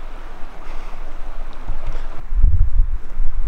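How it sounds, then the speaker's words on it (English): Steady flowing water from a river or stream runs in the background of a backcountry elk hunting camp, a continuous rushing wash with some low wind rumble buffeting the microphone. "you can probably hear the river or the stream in the background"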